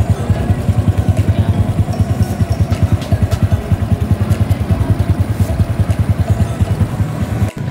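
A Honda RS125 motorcycle engine runs close by with a fast, even putter, holding a steady idle throughout with no talking.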